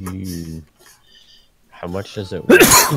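A single sharp sneeze bursts out near the end, loud and close, after a stretch of conversational speech in a tabletop game session.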